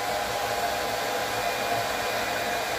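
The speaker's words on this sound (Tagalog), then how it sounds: "nanghiram po tayo ng hair blower o hair dryer" A hair dryer blows in a steady, loud whoosh with a constant motor whine, running alone without interruption, used to dry a water-damaged camera.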